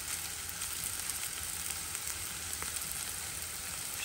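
Chopped onions sizzle in oil in a pan while mushroom julienne is being cooked, a steady, even frying hiss with faint crackles throughout and no talking.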